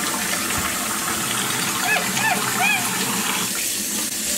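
Water splashes and sloshes steadily around a monkey being bathed, with a few short squeaky calls over it and a low background hum throughout.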